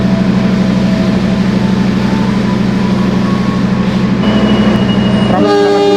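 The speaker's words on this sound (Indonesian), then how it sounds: "komuter lain Pramex telah tiba di stasiun Wates" A Pramex commuter train arrives at Wates station, a loud steady diesel rumble with rhythmic throbbing, ending in a bright horn toot.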